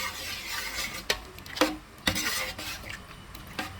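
Wheat payasa stirred in a pot after fried cashews, raisins and almonds are added, giving soft scraping and several sharp clinks of a spoon against the metal rim, fairly close, with no talk.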